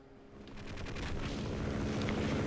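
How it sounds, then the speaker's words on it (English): The Tau Cannon energy weapon in Half-Life charging up, building in loudness and holding as a dense, crackling, rumbling roar. "we'll have to deal with this guy using the Tau Cannon"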